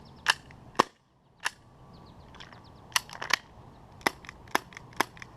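Sharp, isolated shots from an ASG CZ P-09 CO2 airsoft pistol, about a dozen cracks spaced unevenly, some in quick pairs, with a faint mechanical click between them in a quiet room.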